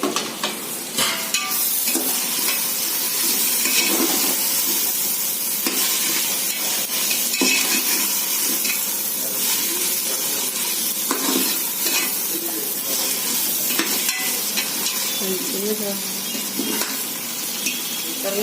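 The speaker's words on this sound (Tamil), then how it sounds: "அதையும் போட்டு வதக்கிடலாம்." Vegetables including beans sizzle steadily in a hot pan, with repeated scraping stirs of a spoon throughout and no talking.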